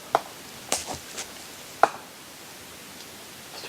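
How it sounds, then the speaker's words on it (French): Sharp knocks on trees in a dark wood, three or four isolated impacts spaced irregularly over a few seconds, quiet and somewhat distant against faint rustling background. "des coups dans les arbres en fait"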